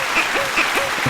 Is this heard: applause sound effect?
yes